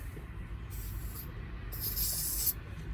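Aerosol starter fluid hisses into the carbureted 5.7 engine of a 1995 GMC box van with a bad fuel pump, in two sharp bursts, a short one and then a longer one, over a quiet background.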